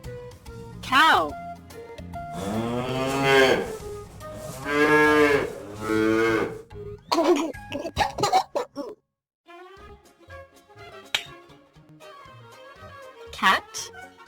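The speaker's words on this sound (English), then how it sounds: "Cow." A cartoon cow gives several long, loud moos in succession, set among other farm animal calls in a children's learning sequence, with brief sounds and quieter gaps between.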